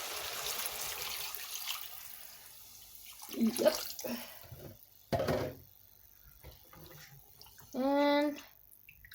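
Water pours and splashes into a pot of mutton soup (sup kambing) simmering in mutton fat and oil, a soft running wash with a few clinks, then a brief word from a person and a final gurgling pour.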